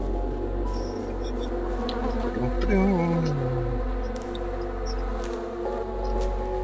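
Insects buzz and drone steadily in The Secret World video game, a close, continuous hum with a wavering tone sliding through the middle, under faint background game sounds.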